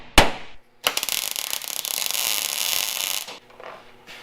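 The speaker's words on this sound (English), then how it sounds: "Nothing like welding sheet metal." Sheet metal being welded with the welder turned down for thin stuff: a sharp crack, then a sustained crackling, sputtering buzz for about two and a half seconds, close and fairly loud.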